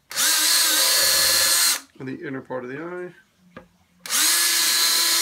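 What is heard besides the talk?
power drill drilling holes in a Lexan faceplate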